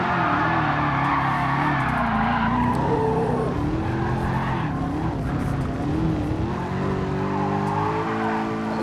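Tires squealing as a rare 787hp mid-engine Mustang GT drifts with the handbrake in a racing game, long sustained screeches rising and falling over a revving engine, loud and continuous.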